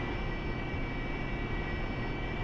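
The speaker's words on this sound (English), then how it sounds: "I'm in an F5, I'm about to fly over your position" F-5 jet in the DCS flight simulator game passing overhead, a steady, continuous broadband engine roar holding at an even level throughout, with no voices.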